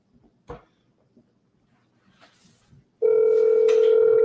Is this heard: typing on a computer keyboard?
no